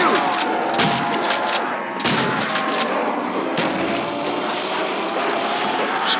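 Rapid gunfire bursts in a Black Ops zombies match, loud repeated shots and booms over game noise, with someone talking now and then.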